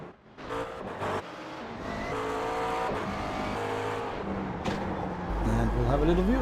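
GT3 race cars, a McLaren among them, at Zandvoort, with loud, steady engine roar and rising and falling revs as cars pass, and a commentator talking over the racing.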